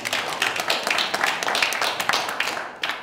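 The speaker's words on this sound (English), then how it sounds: "I think you can give yourselves a round of applause" A small group gives a round of applause indoors, with dense overlapping hand claps sustained for about three seconds at moderate loudness.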